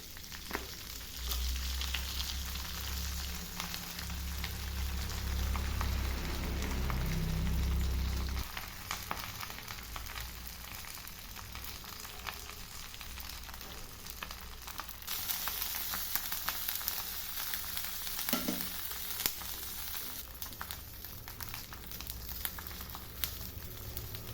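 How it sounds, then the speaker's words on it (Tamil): Fish fries on a hot tawa with a steady, soft, even sizzle that runs throughout, a low hum underneath at first, with no voices. "தோசைக்குள்ள நல்லா சூடு வந்துருச்சு இப்போ மீனை வச்சுக்கலாம்"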